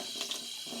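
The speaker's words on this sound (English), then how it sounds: "I'm just rinsing it through with some cold tap water at the moment." Cold tap water runs into a sink as yarn is rinsed beneath it, a brief steady splashing hiss with a couple of small spatters.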